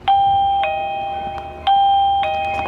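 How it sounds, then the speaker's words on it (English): A video doorbell chimes twice in a row, each a bright electronic two-tone ding-dong, loud and close in a quiet room. "now when I ring the doorbell"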